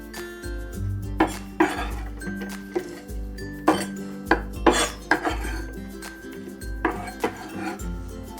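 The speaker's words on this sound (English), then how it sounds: "Next, we can slice the shallot. And the yellow onion." A knife slices through shallot and yellow onion on a cutting board, producing a series of irregular, sharp taps and thuds close by, with no talking.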